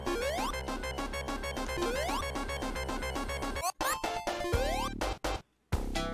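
Rising warning jingle from Sonic the Hedgehog (1991): quick upward-gliding tones repeat over a driving electronic beat, then the music breaks into choppy bursts with abrupt silent gaps near the end.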